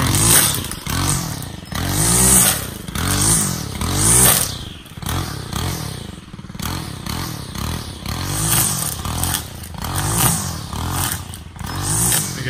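A gas string trimmer cuts through vines, its engine surging and dropping roughly every second in a repeating whine, with scraping and clattering close by.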